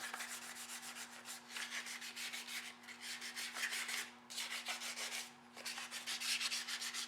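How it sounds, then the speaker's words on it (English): Heavier-grit sandpaper rubs by hand across a Turbo V-twin motorcycle engine head in repeated rhythmic back-and-forth strokes, close and fairly quiet, with short pauses between passes over a faint steady hum. "I went to a little bit heavier grit sandpaper because I wasn't getting any headway"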